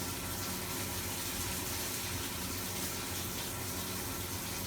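Hot water runs from a tap on a Worcester RSF CDI combi boiler after its diverter valve was replaced, a steady, unbroken gushing hiss that stays loud and even throughout, with no voices.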